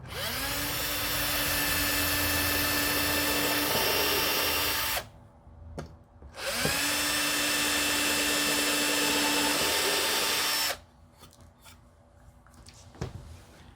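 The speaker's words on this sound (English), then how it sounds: "I've got a drill. This is a 16th inch drill bit." A power drill with a 1/16-inch bit whines steadily for several seconds, stops, then runs again in a second long burst, close and loud, with brief quiet gaps and small clicks between.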